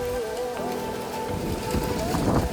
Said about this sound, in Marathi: काय वारं सुटलंय बघा, खतरनाक.